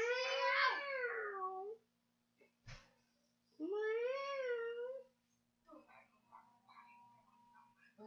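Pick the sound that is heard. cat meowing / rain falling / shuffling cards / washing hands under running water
cat meowing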